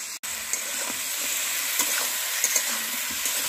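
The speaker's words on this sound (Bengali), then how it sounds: "তো পেঁয়াজ, টমেটো এগুলো সব কষানো হচ্ছে এখন।" Onions, tomatoes and spices including salt, chilli, cumin and turmeric sautéing in a pan, giving a steady close hiss with occasional soft stirring scrapes.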